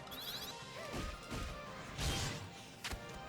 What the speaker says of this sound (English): Oh, another vampire. Ugh, I don't like that sound. They make such gross sounds.